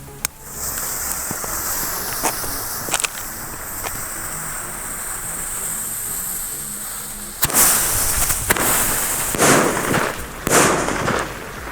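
Powerful aerial firecracker bombs set off outdoors, including a Big Bang 15G, with a low wind-noise background and a few faint cracks before a run of loud sharp blasts and crackling bursts near the end.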